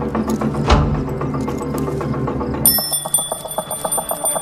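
A security alarm bell rings with a bright sustained metallic trill, cutting in after a stretch of rhythmic mechanical clatter and continuing loud and steady to the end.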